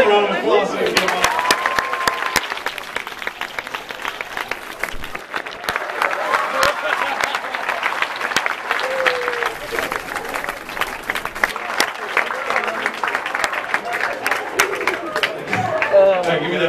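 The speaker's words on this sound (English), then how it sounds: "Give a round of applause if you get them." Steady applause and crowd noise from an audience at a senior all-night party hypnotist show, with sustained clapping and chatter throughout.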